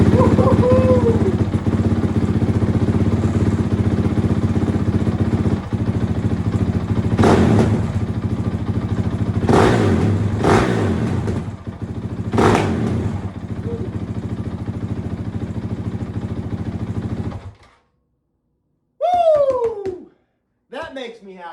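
A race motorcycle engine built for a 24-hour endurance race runs loud and steady close by, with several sharp revs, then cuts off abruptly; a man whoops and cheers afterward.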